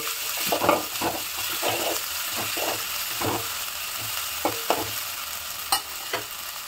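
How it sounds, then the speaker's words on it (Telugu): Onions with ginger garlic paste fry in a pan under a steady sizzle, with repeated scraping stirs from a spoon giving short rhythmic scrapes and clinks, close by. "ఇప్పుడు ఫ్రై అయింది కదా ఆనియన్స్, ఇప్పుడు అల్లం వెల్లుల్లి పేస్ట్ వేసుకున్నాము"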